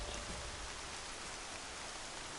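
Steady rain in the open-world game Horizon Zero Dawn, a dense, even hiss of falling water with no breaks, moderately quiet and continuous throughout with no voices.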